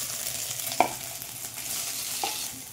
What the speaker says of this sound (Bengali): এইগুলো সব একসঙ্গে দিয়ে ভেজে নেব